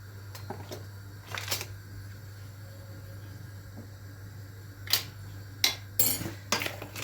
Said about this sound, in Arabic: هقلبهم انا بقى دلوقتي دول كلهم كويس حلو قوي مع بعض